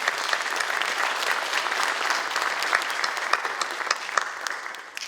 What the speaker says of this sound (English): So I'm going to ask you to clap for the foundation board